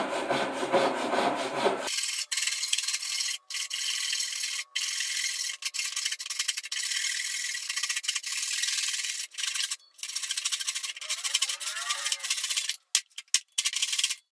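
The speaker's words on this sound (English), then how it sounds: "cut the ends of the boards off because they were too long for what I needed" A handsaw cuts through the ends of plywood boards in a garage, with close, loud, rhythmic rasping strokes and brief pauses between runs.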